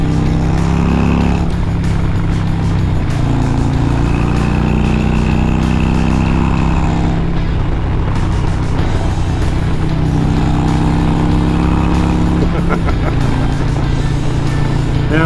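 A motorcycle engine rumbles steadily up close while riding across grass on a North Texas road trip, the revs rising and easing in a few swells, with occasional voices over it.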